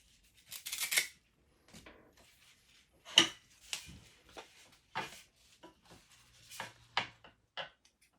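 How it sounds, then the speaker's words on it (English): Scissors snip a small square of wax paper or Velcro backing for a guitar pedalboard, sounding as several short, close, crisp cuts with quiet pauses between them and no talking. "cut a little square of it, put it on top of the sticker"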